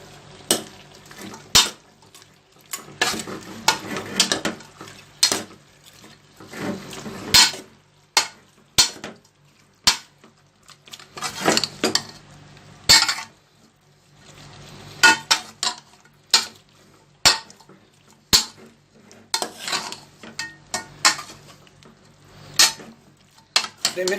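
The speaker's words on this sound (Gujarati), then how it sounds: "હવે આપણે આને બરાબર મિક્સ કરી લઈશું।" Chicken curry being stirred in a pan on the stove, with repeated scraping and clinking of a spoon against the metal, each stroke a short burst, continuing steadily with a soft sizzle underneath.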